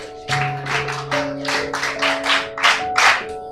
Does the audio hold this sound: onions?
no